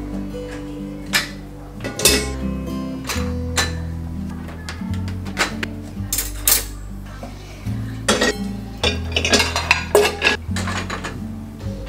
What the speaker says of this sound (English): he is putting the used dishes in the dishwasher